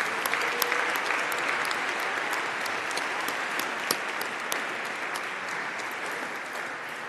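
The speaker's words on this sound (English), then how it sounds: "I would like to ask a big applause for everybody that helped you achieving this." Audience applause fills the hall at an IHE Delft graduation and awarding ceremony, a steady, dense wash of clapping with a few sharper claps standing out, lasting the whole stretch.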